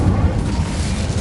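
The Incendio fire spell is cast in a Harry Potter video game, producing a short, dense whoosh of flame with a low rumbling body that holds steady for about a second.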